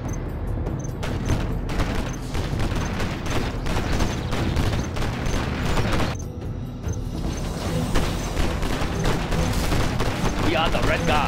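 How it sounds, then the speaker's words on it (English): Gatling tank machine-gun fire in a real-time strategy video game: dense, continuous rapid-fire bursts with mechanical clatter and booms, loud and sustained throughout, briefly interrupted once before resuming. "Gun barrel spinning. Gatling tank, ready for action."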